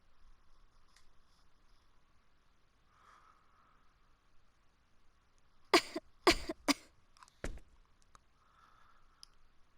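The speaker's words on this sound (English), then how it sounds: "She sure was coughing a lot." A woman in the video game Star Ocean: Till The End Of Time coughs several times in a quick burst of sharp, loud hacks, with a faint quiet backdrop before and after.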